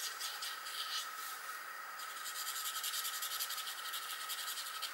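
Stampin' Blend alcohol markers blending colours on a card, a soft continuous close scratchy rubbing of felt tips across paper, quiet and steady throughout.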